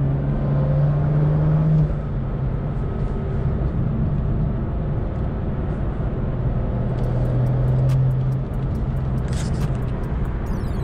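A BMW M2 running a Bootmod3 stage 2 tune rumbles steadily from inside the cabin during light throttle pulls, a loud, continuous low engine drone that rises slightly in pitch now and then, with no talking.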